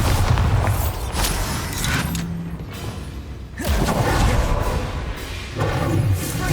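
A Bombarda explosion spell in Hogwarts Legacy lands with heavy booming thuds and crumbling impacts, loud bursts at the start, middle and end with brief quieter rumbling gaps between them.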